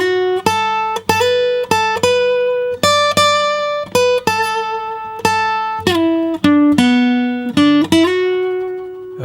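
Acoustic guitar plays a lead phrase from a song: a steady string of clean, close plucked notes with a few bends and slides, ringing out alone with no talking.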